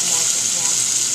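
Diced mirepoix vegetables sizzle loudly in hot butter and oil alongside a roasting game hen, a dense, steady, bright hiss filling the whole moment up close.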